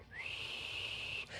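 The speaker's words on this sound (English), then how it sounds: "he whistles." A single sustained whistled tone, rising quickly at the start, then holding steady and fairly loud for over a second before a brief break at the end, with no voices.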